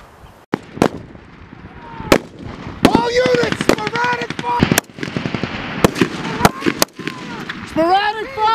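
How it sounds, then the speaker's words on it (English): Sporadic rifle gunfire at a Marine rifle squad competition at Camp Lejeune: sharp, loud shots crack out irregularly, some singly and some in quick bursts, while people shout over and between them. "You're receiving sporadic fire!"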